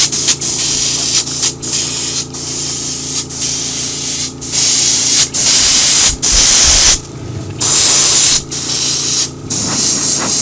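A cheap airbrush sprays paint in steady hissing bursts onto a 3D printed alligator snapping turtle model, each loud spray run broken by brief pauses, close up with no voices.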